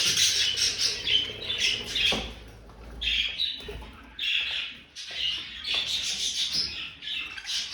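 Jumbo crested budgerigars chirp and squawk continuously in a lively, overlapping chatter close by, with short pauses between bursts and no speech.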